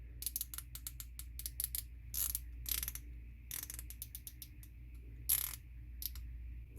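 Turret on a Zeiss Conquest V-4 1-4x24 rifle scope being turned, giving a series of crisp, close detent clicks in irregular groups over a faint steady hum.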